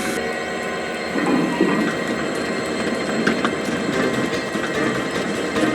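A model train wagon coasts downhill on rails with a steady, continuous rolling rumble and faint clatter, close and even throughout with no talking.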